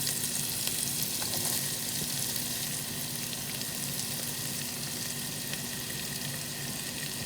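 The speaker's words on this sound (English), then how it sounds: "I love the aroma of the sauteing of the garlic with onions and sweet mini peppers and ginger" Garlic, onions, sweet mini peppers and ginger sauteing in a pan for chicken tinola, giving a steady, close hiss of frying that runs unbroken throughout with no voices.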